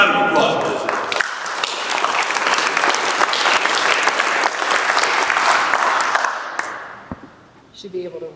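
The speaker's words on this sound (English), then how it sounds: "Give him a round of applause" Audience at a church business meeting applauds a retired ordained minister, a dense, loud burst of clapping that holds steady for several seconds, then fades out as a voice briefly starts up.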